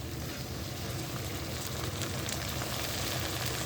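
Chopped tomatoes and curry leaves sauté in a hot pan, giving a steady, fairly quiet frying hiss and sizzle with no talking over it.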